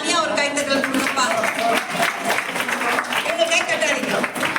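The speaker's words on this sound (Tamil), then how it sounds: "இப்படி உசுர கொடுத்து அடி வாங்கி விளையாடின எங்க மேடம்கா தனியா ஒரு கைத்தட்டல் கொடுப்பா" An audience at a ladies' pass-the-ball party game claps in a burst of applause that carries on over a lively crowd with a voice talking on top.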